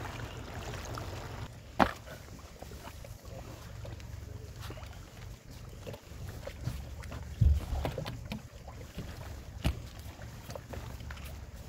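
A boat fitted with two engines travels on the Brahmaputra river at Silghat, giving a continuous low engine rumble with wind noise and occasional knocks and splashes.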